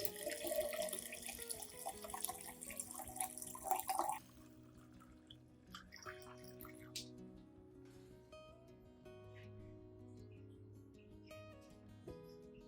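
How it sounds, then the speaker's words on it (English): Two liters of clean water poured in to dilute a turmeric solution for treating a dieffenbachia before repotting, a close, steady splashing rush lasting about four seconds before soft background music takes over. "Next, dilute the solution with 2 liters of clean water."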